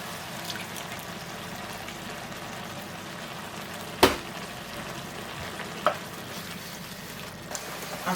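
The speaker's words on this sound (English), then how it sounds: "I've put the spaghetti in and I'm just giving it a stir" Spaghetti being stirred in a pan of tomatoes, with a steady simmering bubble and sizzle throughout and a couple of sharp utensil knocks against the pan.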